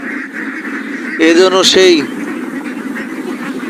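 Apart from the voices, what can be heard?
flock of ducks quacking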